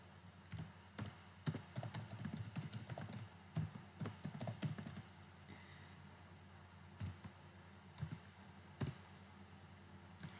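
Computer keyboard keys tapped while typing a command, bursts of quick close clicks in irregular rhythm with short pauses, no voices.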